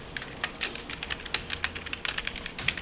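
Keys clatter on a computer keyboard while HTML code for a marquee tag is entered, a steady run of quick, close clicks with short pauses, no voices.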